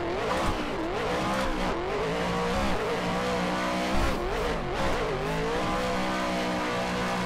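A Vicari VDC RTR Spec 5-D drift car is flicked hard into a bank, its engine revving loud and continuous with wavering pitch as it slides, tire noise mixed in, close and steady throughout.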